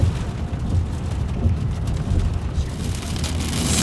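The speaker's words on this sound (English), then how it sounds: "now it's hailing" Hail and rain pour down during a wild storm at Iona Beach, a dense, steady roar of impacts that stays loud and close throughout, with no voices.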